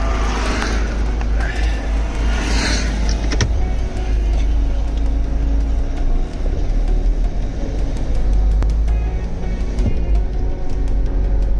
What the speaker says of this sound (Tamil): ஆனால் நாங்கள் கார் ஓட்டின்னு இருக்கோம்